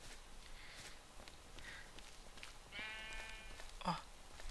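Sheep in the Minecraft video game bleat a couple of times, short wavering cries over faint footsteps and soft background noise, fairly quiet.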